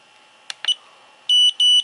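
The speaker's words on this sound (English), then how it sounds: "you get 2 beeps, and that stops the recording" Two short, bright electronic beeps in quick succession from Fatshark Scout FPV goggles stopping a recording, preceded by a couple of faint clicks, in an otherwise quiet setting.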